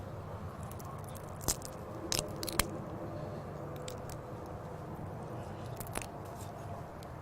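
Steamed spicy crawfish being eaten up close: sharp cracks and crunches of shell break through, mixed with softer squishy chewing over a steady room hum.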